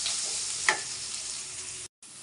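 Onions frying in a pan for a village-style brinjal gojju, a steady broadband sizzle throughout with one brief scrape or stir near the start and a short dropout toward the end; no voices.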